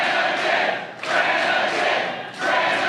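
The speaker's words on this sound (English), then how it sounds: "They're cheering for Brannigan." A wrestling crowd cheers and roars in swelling waves, loud and distant-sounding, rising and dipping over about three seconds.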